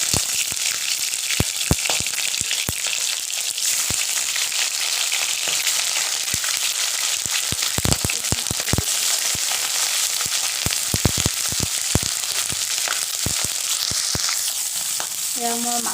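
Fish heads frying in hot oil for a fish head curry, with a steady, dense sizzle throughout and scattered sharper pops and crackles, close and continuous with no talking.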